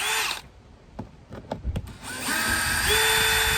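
A power drill with a T25 bit whirs in short bursts with clicks and clunks between, then runs steadily at a high pitch for a longer stretch, close by, during a VW Golf service.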